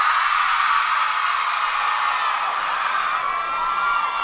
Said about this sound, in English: I would like to hear all the girls give a Beatles scream